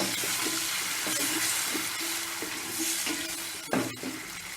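Green chilies and curry leaves splattering in hot oil for raw pepper thokku, a steady close crackle and hiss with a few sharper pops.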